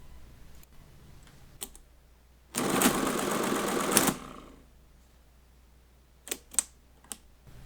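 Friden STW10 mechanical calculator running a divide by zero, a dense mechanical whirring chatter lasting about a second and a half, framed by scattered sharp key clicks and clacks before and after, close and without talking.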